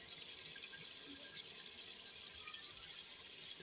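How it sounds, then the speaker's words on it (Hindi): Water splashes and streams steadily into a cooking pot of kofta curry gravy, a continuous close pouring with no talking. "अब हम इसमें पानी डालकर"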